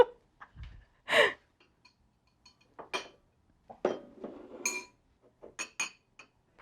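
Ceramic rice bowls slid and set down on a table give scattered light clinks and knocks in short bursts, close by, with faint breathing between them.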